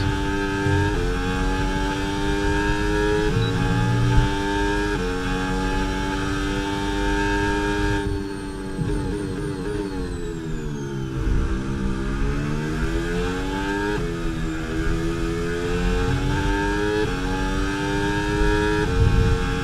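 A Formula 1 car engine in the F1 26 racing game screams at high revs, its whining tone climbing steadily through gear changes, dipping once and rising again, loud and continuous with no talk.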